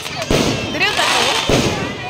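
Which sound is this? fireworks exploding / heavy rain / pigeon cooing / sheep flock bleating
fireworks exploding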